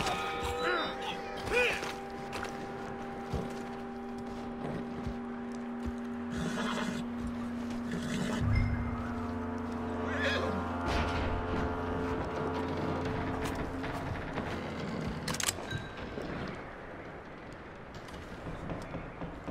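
A horse in Red Dead Redemption 2 neighs and whinnies loudly several times close by, with clopping hooves, creaking tack and a steady mechanical hum running under it.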